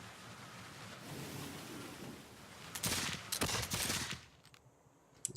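Cannons firing in the Civilization 6 strategy game, a rumbling barrage of booming blasts over a steady ambient battle wash, the loudest cluster of shots landing near the end, no speech.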